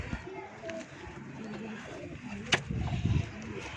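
A Chinese pigeon coos softly in low, repeated calls, with people talking nearby and a brief knock partway through.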